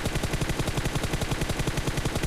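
Rapid automatic gunfire from a mobile battle-royale game played on an Asus ROG Phone 3, an unbroken, evenly spaced stream of sharp shots filling the whole moment with no talk.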